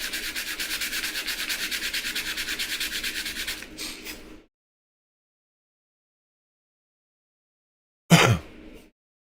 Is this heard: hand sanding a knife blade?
yes